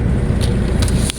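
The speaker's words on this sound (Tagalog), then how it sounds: "Napagsikip po ng daloy ng trapiko, lalo na dito sa malalaking lansangan dito sa Bacolod City" Heavy, slow-moving traffic on a big street in Bacolod City, Philippines: a continuous close roar of car engines with a few brief louder bursts from passing vehicles, and no voices.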